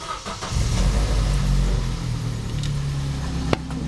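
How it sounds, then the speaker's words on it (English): A hot hatch track car engine cranks and catches after a jump start, then settles into a steady, close, low rumbling idle that continues to the end. "The car is running."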